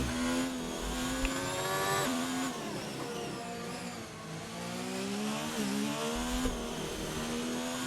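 A race car engine in an online racing game at the Russian GP holds a steady high whine with gliding harmonics that rise and dip through gear changes, loud and continuous throughout.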